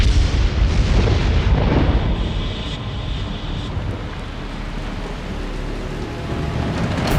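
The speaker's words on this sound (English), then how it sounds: "The rain falls hard here." Heavy rain pours down loudly and steadily while deep rumbles of thunder roll through, strongest at the start and easing slightly afterward.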